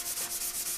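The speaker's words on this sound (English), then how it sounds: "Now we just need to sand it a bit to take down the high spots" Quick, rhythmic scrubbing of a fine-grit sanding block over dried spackle on a drywall patch, several short even strokes heard close up and alone.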